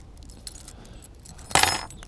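Old flat keys are sorted outdoors in the sunshine: a few faint metallic clinks give way to one loud, brief jangle of keys shaken together near the end, with no talking.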